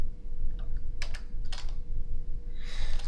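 Keys tapped on a computer keyboard in a quiet room, a few light scattered clicks and short bursts of typing while text is entered into a MATLAB dialog box.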